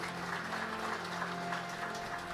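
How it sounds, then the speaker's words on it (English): An audience at a Hindu devotional gathering applauding, a faint steady patter of many hands clapping at a distance, with no talk over it. "Let's give Seema and Rishma a wonderful round of applause."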